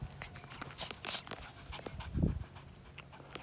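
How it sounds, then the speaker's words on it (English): A small brown, tan and white female Cavapoo pants in quick, soft breaths close by, with a brief louder whimper partway through and light rustling around it. "Hey, you little yapper."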